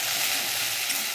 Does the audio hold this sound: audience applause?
no